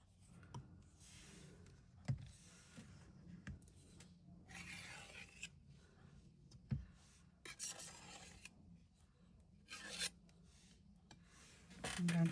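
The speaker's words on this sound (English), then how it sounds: "I'm just going to do one more scrape, just gently pulling down" A stencil scraper drags excess paste across a wheat-circle stencil in several gentle, separate passes, each a soft rasping scrape with brief pauses between, quiet and close with no voices.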